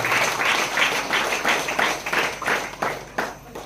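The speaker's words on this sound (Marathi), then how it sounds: "सर्वांनी जोरात टाळ्या वाजवून प्रभू येशूचे आभार मानायचे आहे" A church congregation at a prayer center claps loudly in thanks, a fairly steady rhythmic beat of about three claps per second, close and full, gradually loosening toward the end.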